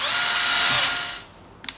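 A power drill runs a drill-and-tap bit into waxed aluminium held in a vise during a boat build, a steady high whine for about a second before spinning down, followed by a small click.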